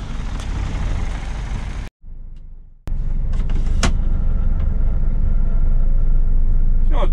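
A car fitted with snow chains pulling away on snow in Kemerovo, a loud close engine rumble that briefly drops out, then resumes steadily with clanks and knocks as it moves off.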